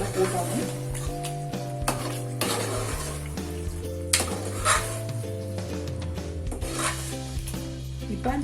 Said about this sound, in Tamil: இப்போ நம்ம சிக்கன் ஆட் பண்ணிக்கலாம். நல்லா மிக்ஸ் பண்ணி வைக்கலாம்.